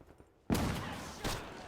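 A heavy blast erupts in a World War II Battle of Saipan video game, followed by a second burst of gunfire or explosion, loud and close after a brief quiet start.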